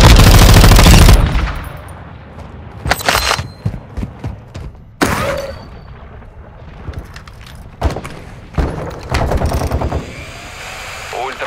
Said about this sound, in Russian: Я под обстрелом!